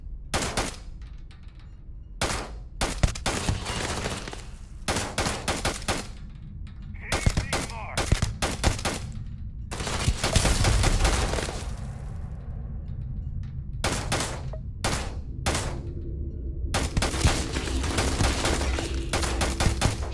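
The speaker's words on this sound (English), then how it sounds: "Shooting from cover" Repeated sharp bursts of gunfire in the video game Starfield, loud rapid volleys of shots spaced irregularly through a firefight with a low background rumble between them.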